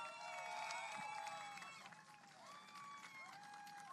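A crowd applauds and cheers the winner of a USF Pro 2000 race at the Streets of St. Petersburg podium, a steady wash of clapping with voices mixed in.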